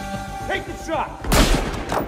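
A single heavy gunshot blast in Battlefield Hardline erupts near the end after a stretch of voices and game noise, loud and close with a broad booming crack.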